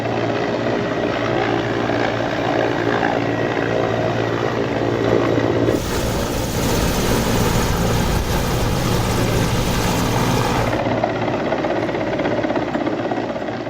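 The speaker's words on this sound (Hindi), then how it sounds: "चिनूक उतार दिया गया है" A Chinook helicopter works a flood rescue at Pathankot. Its loud, continuous rotor thump and turbine roar stay close throughout, and a harsher, brighter roar swells in the middle before settling back.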